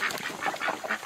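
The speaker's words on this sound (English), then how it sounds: "that's a female duck on top of a female duck." Ducks quack in a quick series of nasal calls, several in close succession, near and moderately quiet.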